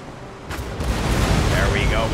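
Cannon fire exchanged between sailing warships of the line in the naval battle game Empire: Total War, a rumbling volley of booms with sharp cracks, mixed with game effects and a background voice.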